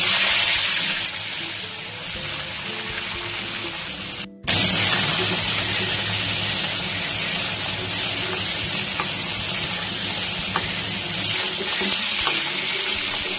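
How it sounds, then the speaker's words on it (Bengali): Crabs fry in very hot mustard oil with a loud, steady, dense sizzle that fills the whole stretch, dipping briefly once before resuming at full strength, close up with no talking. "তেল খুব ভালো করে গরম হয়ে গেছে, কাঁকড়াগুলো এবার আমি ভেজে নেব"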